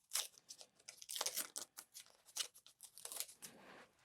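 Scissors snip and trim fabric for a fusible appliqué art quilt of a mushroom collage, a close, quick run of crisp cutting strokes with some light paper crinkle, no talking.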